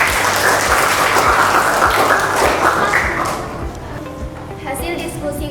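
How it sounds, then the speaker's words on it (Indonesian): A classroom of students applauds the first discussion group, loud dense clapping that fades toward the end as a voice begins speaking. "Beri tepuk tangan dulu buat kelompok 1."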